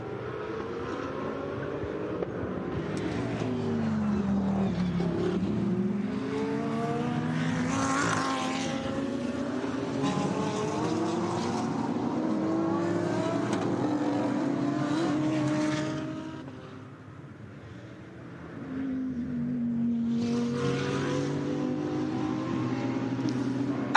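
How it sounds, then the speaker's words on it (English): DTM race cars battle at the Nürburgring with loud engine howls that rise and fall through gear changes, several cars passing in sequence, with a brief dip before another car roars through. "It's going to be side by side when they hit the brakes all the way up into the Vidal chicane"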